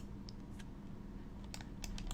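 Act cards for a board game being shuffled, heard as quiet, scattered papery clicks and snaps that bunch into a brisker flurry toward the end, over a low room hum.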